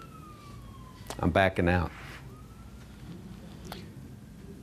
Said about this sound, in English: When you hear sirens like that, do you pray?